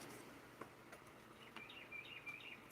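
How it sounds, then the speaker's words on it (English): A bird sings outdoors in the morning, heard faintly and at a distance as a few short, high chirps and warbles over a quiet background. "there's the bird telling us good morning"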